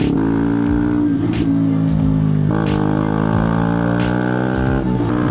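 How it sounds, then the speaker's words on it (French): Steady motorcycle engine running loud and close for the whole stretch, with a rising harmonic drone, brief throttle blips and gear-shift dips, and no talk over it. "le bruit de la moto"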